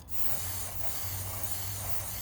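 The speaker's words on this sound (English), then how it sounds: "I'm going to use it fairly heavy, and just kind of continue to spray around" Chain lubricant is sprayed steadily and heavily onto a motorcycle chain, a continuous close aerosol hiss that carries on without a break throughout.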